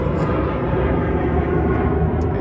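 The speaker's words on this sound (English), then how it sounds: "got another plane going overhead" An airplane passes overhead in a loud, steady low-pitched roar that holds for over two seconds, dense and continuous with no voices, heard from outdoors near the Pacific Crest Trail.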